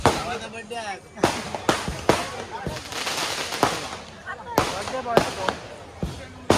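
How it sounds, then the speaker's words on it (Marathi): Firecrackers and fireworks bursting at a crowded annual village festival with Dashavatar folk theatre, sharp loud cracks spaced irregularly over a busy crowd with people talking close by. "फटाके फटाक्यांची आतिषबाजी चालू आहे इकडे"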